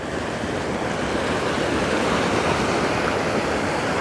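Mountain creek in Rocky Mountain National Park rushes steadily and loudly close by, a dense, unbroken roar of flowing water with no voices over it.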